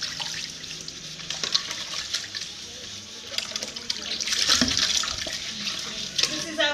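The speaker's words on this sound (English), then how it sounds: "You can see they are very busy washing plates." Plates washed by hand with water in an outdoor kitchen, with running, splashing water and clinking dishes throughout, rising in the middle, with voices faintly in the background.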